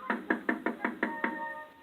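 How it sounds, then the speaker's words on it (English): Seven sharp, evenly spaced knocks strike a door in quick succession, loud and close, with a slightly hollow ring trailing after the final blow. "a harsh knocking cut our celebration short"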